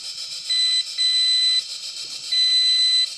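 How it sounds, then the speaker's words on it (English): A very basic model train whistle gives a thin, steady electronic beep in three bursts of about a third to half a second each. It sounds close and clear over a faint background hiss. "And this is how the whistle sounds."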